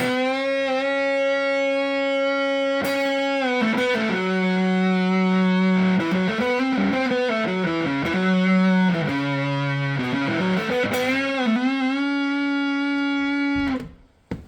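Sustained, thick electric guitar notes through a Rat distortion pedal, sliding and bending between pitches in a continuous gritty lead line, loud with no talking, ending abruptly.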